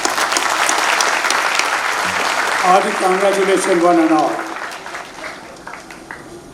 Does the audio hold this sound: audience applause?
yes